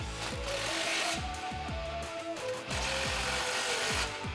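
A ratchet with a 15 mm socket tightens an exhaust clamp on a 2009-2018 RAM 1500 5.7L during an aftermarket muffler install, giving close, quick bursts of rhythmic clicking over about a dozen strokes with a brief pause midway.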